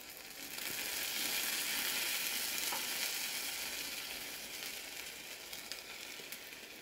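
Hot syrup sizzles steadily as it is poured and soaks into baked qalb elouz, a porous semolina cake, giving a close, continuous crackling hiss with no talk.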